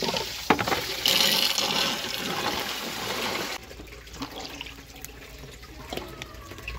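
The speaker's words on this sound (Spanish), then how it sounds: "lavando el dulce o el piloncillo para echarlo a cocer" Running water from a tap pours over a piloncillo brown sugar cone as it is rinsed before being boiled with pineapple for atole de piñuela, a steady loud wash that drops to a quieter trickle partway through.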